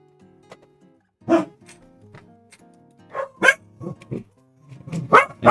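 Several dogs bark in irregular bursts, a few loud yips and barks standing out over a faint background hum, with quieter whines between the louder outbursts.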